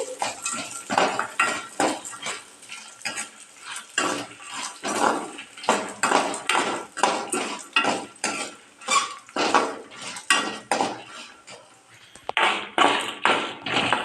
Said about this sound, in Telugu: ఇవి కొంచెం వేగాలి.